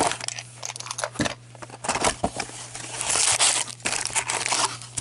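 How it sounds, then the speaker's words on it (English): Crinkling plastic seal wrapper being cut and pulled from a hockey card box, close and continuous crackling and rustling with sharper tearing moments throughout. "I guess I should cut the seal."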